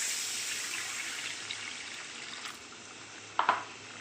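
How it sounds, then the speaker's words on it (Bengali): Water poured steadily into a pan of Bengali ayla fish curry cooking in mustard oil, a continuous close hiss and splash with a couple of brief clinks toward the end. "আমি এবারে জল দেবো।"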